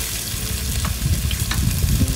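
Red onion sizzling and frying in a pan while being stirred, a close, busy crackle with soft scraping bursts throughout.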